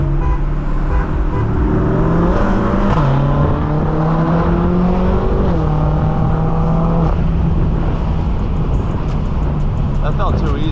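A BMW and a Camaro race on a city road, engines roaring and accelerating with rising and falling revs that shift through gears, loud and close over steady road and wind noise, with voices talking over it.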